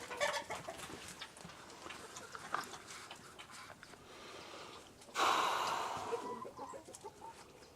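Chickens cluck and murmur softly nearby, with a sudden louder squawking burst partway through before settling back into quiet clucking.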